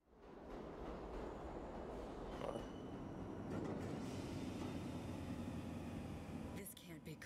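A subway train rumbles through a tunnel in the video game World War Z, a continuous low mechanical roar with faint talk underneath, fading near the end.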